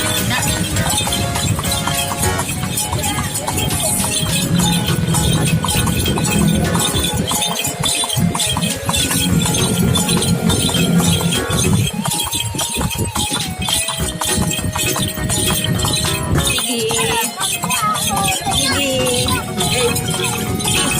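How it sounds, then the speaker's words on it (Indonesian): Horse hooves clip-clopping with a faint clink of tack during a ride at a street event with ondel-ondel giant puppets, steady and busy under continuous loud crowd noise, music and chatter. "Kakak naik kuda ya kak?"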